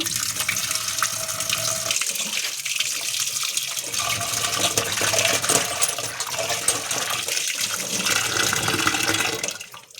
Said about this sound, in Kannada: ಈಗ ಒಂದ್ಸಲ ನಾನು ನೀರೆಲ್ಲ ಚೆಲ್ಲಿದೆ